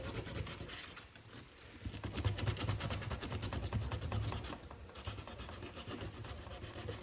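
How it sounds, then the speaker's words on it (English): Painted wood being scuffed and sanded to a distressed, weathered beach finish, a steady close rasping rub that runs continuously with rhythmic back-and-forth strokes. "So I'm just scuffing the heck out of it."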